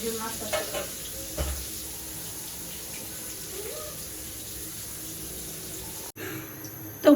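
Fish frying in hot oil, a steady soft sizzle that runs on and on at low level, with a brief break near the end and a faint clatter as it resumes.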